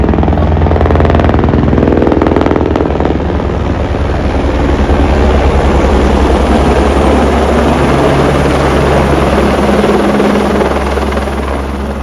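Loud, close helicopter near a helipad on the Vaishno Devi shuttle route, a continuous heavy rotor thrum with engine whine holding steady throughout, no voices.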